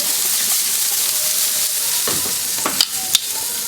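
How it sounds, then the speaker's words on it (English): Babyback ribs on a Kamado Joe grill sizzling after a spritz, a close steady hiss with a few sharp spray bursts near the end, no talking. "I'm going to give them a spritz."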